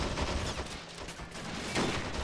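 Gunfire in the Men of War Planetside 2 mod during a bridge assault, a dense, noisy barrage of shots and rumbling battle sound, continuous and loud, with no clearly separate sniper cracks and no voices.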